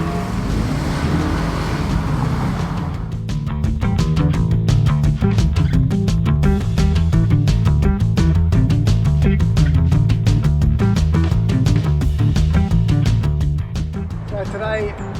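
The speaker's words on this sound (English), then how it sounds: "this is an Audi RS5 V8 at Phillip Island racetrack" An Audi RS5 V8 drives at Phillip Island racetrack, its engine a loud, sustained, close roar with a rising, rhythmic pulsing drone that holds for most of the stretch.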